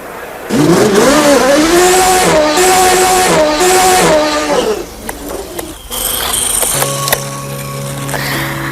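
Indy race car engine at the 1987 Indianapolis 500: a loud, close engine roars and climbs through revs with rising pitch, then fades out into mixed track and broadcast noise.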